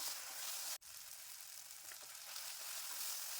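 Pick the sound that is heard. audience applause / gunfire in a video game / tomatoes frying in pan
tomatoes frying in pan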